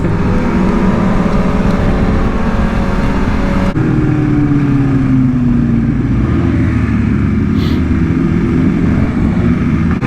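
A BMW M1000RR superbike engine running at steady speed, with a loud, close, constant engine drone and wind roar and no speech.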